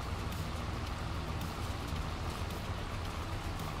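Steady rain falls throughout a farming video game scene, a dense, even hiss of drops with a low rumble underneath, constant and unbroken with no one speaking.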